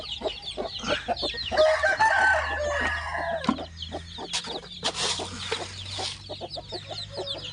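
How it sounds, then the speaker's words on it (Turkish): Chickens and chicks cluck and squawk close by, with a rooster crowing amid a busy flock of chirping birds. "Bunlar civciv grubu."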